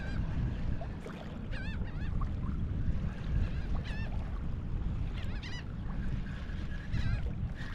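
Seabirds circle over feeding fish near a drifting fishing boat, repeatedly squawking and honking at a moderate distance above a constant rush of wind and water.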